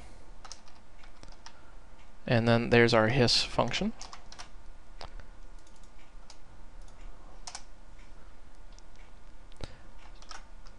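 Rapid keyboard typing clicks away steadily, close and crisp, with someone briefly speaking partway through.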